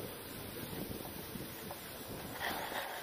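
Wind gusts steadily on a riverbank in October during shore fishing for pike, a soft, continuous rush buffeting the microphone with no voices.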